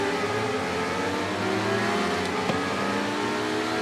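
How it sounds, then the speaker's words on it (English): Motorcycle engine in the Ride 3 racing game revving steadily at a race start on a circuit, a loud continuous buzzing drone with rising pitch, close and alone. "As we rev it up for 3 laps of fun."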